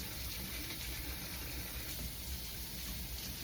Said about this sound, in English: when you go to wash a dish, you're gonna get it wet and you're gonna scrub it down